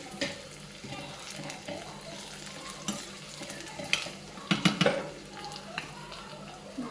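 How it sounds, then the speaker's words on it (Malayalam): Shallots fry in oil in a pan for a Kerala chicken curry, with a soft sizzle under repeated scraping stirs. A burst of louder clattering strokes comes near the end. "കൊച്ചുള്ളി നമുക്ക് നല്ലപോലെ ഒന്ന് മൂപ്പിച്ചെടുക്കണം."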